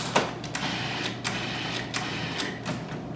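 A food processor pulses basil with olive oil into a puree: a steady motor hum broken by about six sharp, whirring bursts at a fairly even rhythm, close and moderately loud.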